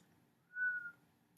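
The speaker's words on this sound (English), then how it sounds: "Show me how you whistle." A single steady whistled tone from a person doing an oral mechanism exam, held for about half a second, clear and close against a quiet background.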